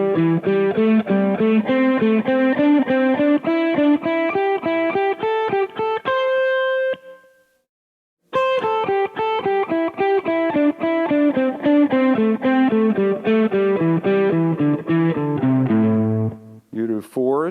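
Distorted electric guitar picking each note of a scale in ascending groups of three, a steady stream of loud, rapid notes with a brief pause midway before continuing and ending on a held note; no talking.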